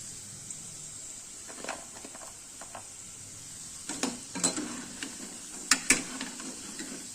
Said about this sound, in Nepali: पनिरलाई हामी केही समय फ्राई गर्छौं